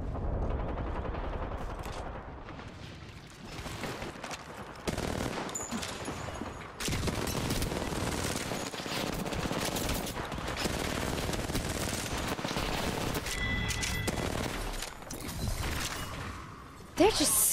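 An R99 submachine gun rattles in rapid sustained bursts during a video game match, with dense continuous gunfire and other players' shots mixed with a voice talking over it.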